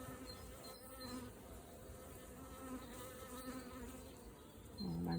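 Honeybees around an opened Langstroth nucleus hive during an inspection. A quiet, continuous hum of many bees sits close to the microphone, with a slightly louder buzz swelling near the end.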